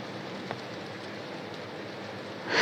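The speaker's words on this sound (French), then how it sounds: "T'entends pas le bruit de la pluie là?" Steady rain hiss heard leaking through headphones, a broadband wash running evenly throughout with one brief tick early on and a swell in loudness at the very end.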